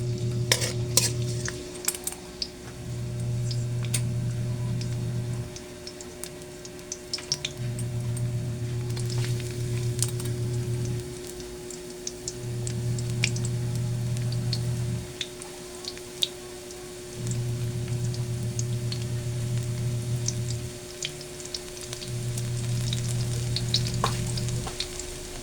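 Garlic sizzles steadily in a pan while a utensil stirs it in regular bursts, scraping and clinking against the metal over a continuous low hum, with no voices.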